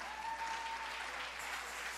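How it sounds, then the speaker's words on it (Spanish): An audience breaks into steady, even applause, a dense wash of clapping that holds without pause and sounds somewhat distant and soft. "Démosles un aplauso a Felo y a Martica."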